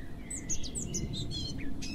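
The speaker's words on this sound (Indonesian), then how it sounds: "Kau lihat di sana ada empat ekor burung kan?" Several birds chirping, with a cluster of short, high, bright tweets repeating over a soft low background hum, fairly near.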